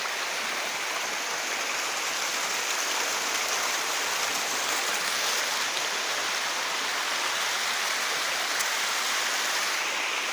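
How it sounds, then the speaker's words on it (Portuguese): A waterfall roars as a steady, dense rush of falling water, loud and close, holding unchanged for the whole stretch with no talk over it. "Estamos aqui na cachoeira de novo."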